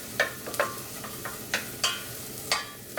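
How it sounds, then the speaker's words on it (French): Soft sizzling of shallots browning in butter and oil in a pan, punctuated by several light scraping and stirring taps at irregular intervals, close and quiet with no speech. "on fait bien rissoler son échalote"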